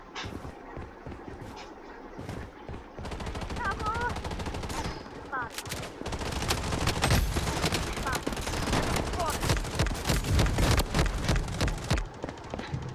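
Gunfire from the video game BloodStrike sounds in rapid automatic bursts and scattered single shots, dense and growing louder toward the end, with brief game tones mixed in.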